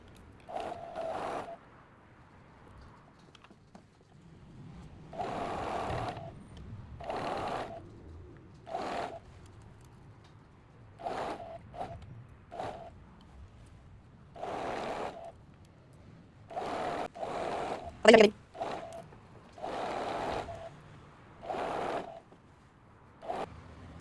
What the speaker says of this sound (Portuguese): Vou pra máquina de costura fechar tudo isso.